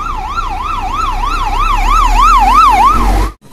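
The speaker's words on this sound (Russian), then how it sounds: "Едет скорая." An ambulance siren wails loud and close as it passes along a city street in Kharkiv, its rising and falling tone repeating steadily for about three seconds before cutting off abruptly.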